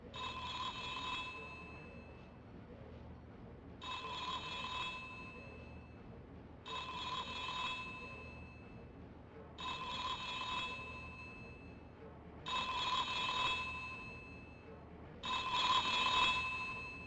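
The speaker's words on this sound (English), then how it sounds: "That's your phone." Telephone ringing in The X-Files PS1 video game: six evenly spaced bursts of bright electronic bell trill, each lasting about a second and a half, rising slightly in loudness over a faint steady background, with no talking.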